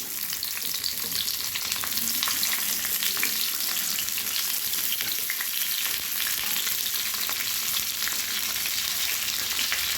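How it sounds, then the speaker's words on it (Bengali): Steady loud sizzling of capsicum and tomatoes frying in hot white oil, continuous and close, with faint stirring scrapes throughout and no voices. "দুই এক মিনিট তেলে আমি নেড়ে নেব"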